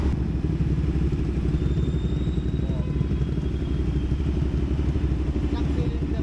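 A CFMOTO 450SR motorcycle engine drones steadily while riding, a continuous loud mid-low hum with wind noise and no clear breaks throughout.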